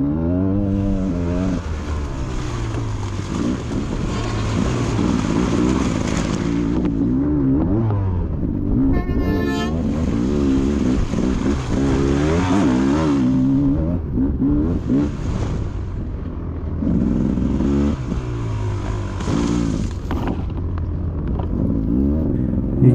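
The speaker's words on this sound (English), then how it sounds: "You can hear my bike sounding a little weird. It just idles a little high." A dirt bike engine during a hare scramble idles a little high, running as a continuous loud, rough drone that swells and dips with brief revs, close by and alone.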